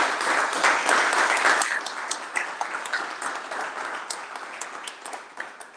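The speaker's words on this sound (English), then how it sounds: "So a big round of applause." A meeting audience gives a round of applause, steady clapping from a moderate crowd that gradually thins and fades over several seconds.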